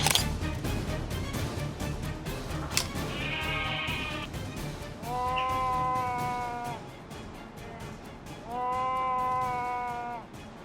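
Wild mountain goats in rugged North American terrain bleating: several drawn-out, wavering cries rise over a steady rushing outdoor background, fairly distant, with no speech.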